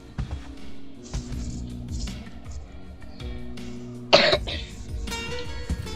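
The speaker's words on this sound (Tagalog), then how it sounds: "Medyo inuubo lang kasi ako guys." A few scattered coughs and throat clearings over quiet background noise, with one sharp, louder cough standing out near the end.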